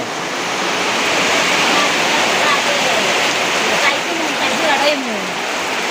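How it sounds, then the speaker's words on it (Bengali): Heavy rain pouring down outdoors around trees, a dense, loud, continuous roar of falling water with no breaks. "এই দেখো প্রচণ্ড পরিমাণে বৃষ্টি দেখছো"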